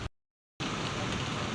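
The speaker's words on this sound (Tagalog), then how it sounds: "Grabe naman po kalakas ng ulan." Heavy rain pouring down in a dense, steady hiss that drops out briefly to silence and then returns at full strength, loud and unbroken.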